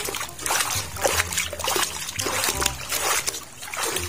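Water splashes and trickles as a large toy dinosaur is washed, with steady running and dribbling sounds and irregular sloshing bursts over a few seconds, fairly close.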